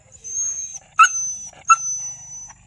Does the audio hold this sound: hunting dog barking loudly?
yes